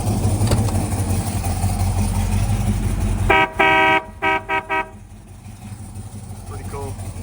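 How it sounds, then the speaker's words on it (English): A big marine horn on a 1979 Jeep J20 truck sounds in several short loud blasts, one longer then three quick ones, over a steady idling engine and outdoor background noise. "It's got a big marine horn there that does work."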